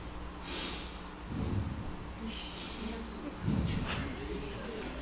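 A person imitates sniffing, with two breathy snorting sniffs a couple of seconds apart over faint background hiss.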